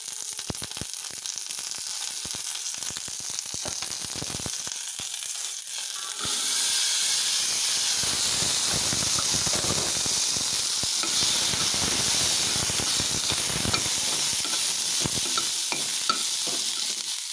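Mustard seeds and asafoetida sizzle in a little oil while groundnut sundal is tempered, a steady close frying hiss with stirring scrapes that swells louder partway through.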